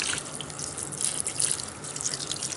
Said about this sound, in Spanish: Le voy a echar un poquito de agua.